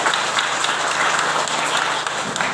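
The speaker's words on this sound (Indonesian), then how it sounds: "Tepuk tangan buat Tuhan." A church congregation claps steadily and continuously, a dense, fairly loud wash of applause with no pauses.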